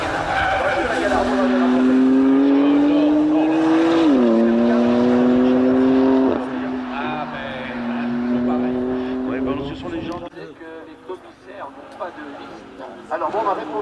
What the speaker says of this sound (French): Ça ne va pas tarder avec le passage de la BMW devant nous.